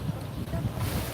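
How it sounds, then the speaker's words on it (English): Gusty wind buffets the microphone on a Philippine beach, a loud low rumble mixed with a distant wash of surf over about a second. "Now the wind's really coming up."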